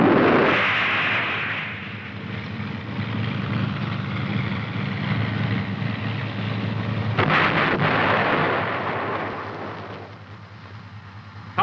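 M551 Sheridan armored reconnaissance vehicle firing its main gun, a heavy blast with a long rumbling roar that fades, then a second sharp report about seven seconds in over sustained loud low noise.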